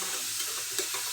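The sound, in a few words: onion pieces cooking with salt in a pan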